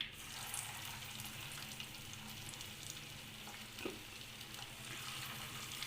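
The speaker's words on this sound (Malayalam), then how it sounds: "ഇനി ഇതിലേക്ക് ചിക്കൻ പീസസ് ഓരോന്നായിട്ട് ഇട്ട് കൊടുക്കാം" Chicken pieces for chicken 65 deep-fry in hot oil with a soft, continuous sizzle, faint and steady throughout with a few light clinks.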